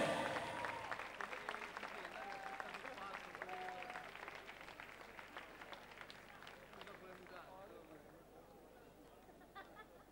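Audience applause for the band at an evening memorial concert, a dense wash of clapping with crowd chatter that starts loud and slowly thins and fades over about ten seconds.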